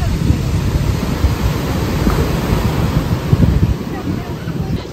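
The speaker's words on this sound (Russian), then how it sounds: "Ну что, как обычно, шторм на Сочи." Stormy sea waves at Sochi wash and roar continuously nearby, mixed with heavy wind buffeting the microphone.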